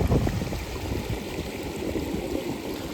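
Irrigation water runs into a wheat field beside a cumin plot on a Gujarat farm, a steady low gurgle and rush that stays constant and moderately quiet throughout.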